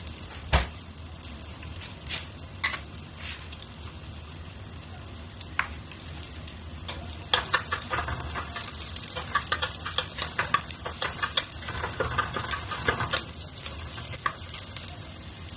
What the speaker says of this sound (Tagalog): igisa ko lang yung sibuyas bawang.